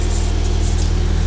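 A skid steer engine runs wide open but held to about 1800 RPM, likely by a clogged exhaust filter, giving a loud, steady, close-up mechanical drone with a throbbing low pulse.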